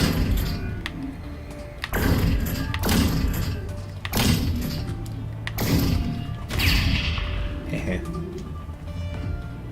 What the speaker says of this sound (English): Explosions are so good.